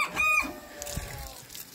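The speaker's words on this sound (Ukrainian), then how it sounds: "Ой-ой, як півники молоденькі кукурічуть." Young roosters give a short, high crow close by, followed by faint clucking and scattered farmyard chatter from the flock in a village.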